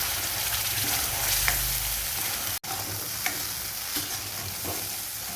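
Masala paste of finely ground spices fries and sizzles in oil for a dhaba-style mixed vegetable dish, a steady close hiss with a few soft stirring scrapes and one brief dropout midway.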